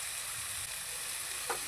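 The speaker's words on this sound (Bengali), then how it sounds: "এখন মশলার সঙ্গে ভালো করে কষিয়ে নেব।" Spiced paste with salt and sugar sizzles steadily while being sautéed in a pan for a besan and egg dish, a soft, continuous frying hiss with no talking.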